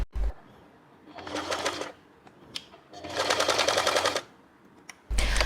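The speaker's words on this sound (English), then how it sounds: "I also recommend do a second stitch to reinforce the stitching for this part here" Home sewing machine running a second reinforcing line of stitching on a boatneck top, two sustained bursts of rapid, even needle chatter separated by a brief pause, close and fairly loud with no talking.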